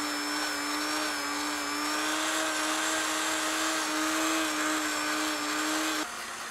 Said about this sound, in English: I wanna just go ahead and take my my Dremel with the stone bit.